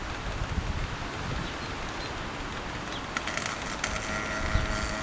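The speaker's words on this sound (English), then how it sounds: "right now it's too windy to actually weld" Wind rumbles and gusts steadily through an open garage doorway during work on a fuel tank, with rustling and a few light knocks and clicks on top.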